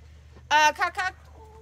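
A rooster crows once, a short harmonic call broken into three rising and falling bursts, close and clear over a low steady hum.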